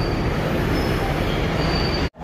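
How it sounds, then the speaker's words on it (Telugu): A train arriving at a station in Sri Lanka rumbles loudly and steadily with a faint high wheel squeal running throughout, close by, before cutting off near the end. "ఇప్పుడే మేము ఎక్కాల్సిన ట్రైన్ అయితే వచ్చేసింది"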